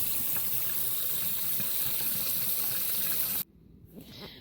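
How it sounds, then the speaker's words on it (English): Carrots, a potato and celery being rinsed under a running kitchen tap, a steady loud gush of water that stops abruptly near the end, leaving only faint handling noises. "we're going to get our carrots washed up first. We get that potato washed up."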